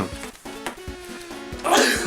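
A person sneezes sharply near the end, following a stretch of quiet tapping and a few soft throat sounds, with the burst loud and close.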